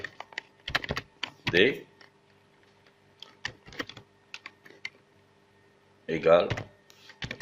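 Quick bursts of typing on a computer keyboard, clicking close and clear, alternate with someone speaking French during brief pauses.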